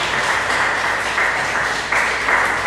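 A church audience applauds loudly for Jesus during a Portuguese sermon, a dense, steady wash of clapping that swells in bursts and carries on throughout with no talk.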